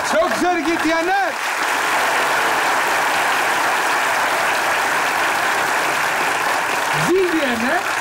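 Studio audience applauds in a Turkish comedy sketch show, a loud sustained wash of clapping filling most of the clip, with voices speaking over it at the start and end.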